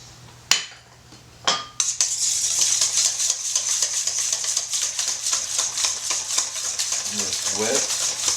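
Heavy whipping cream and powdered sugar being whisked by hand in a bowl, a rapid steady clicking and scraping of the whisk against the bowl after a couple of sharp knocks, close and busy.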